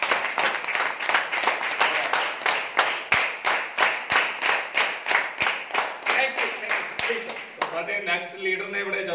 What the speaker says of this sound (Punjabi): ਜ਼ੋਰਦਾਰ ਤਾੜੀ ਇੱਕ ਵਾਰੀ ਫਿਰ।